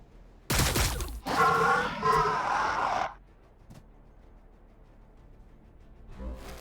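Gunfire in the video game Warhammer 40,000: Battlesector: a sharp loud blast, then a louder burst with a growling, groaning tone for a couple of seconds, followed by quiet and a faint thump near the end.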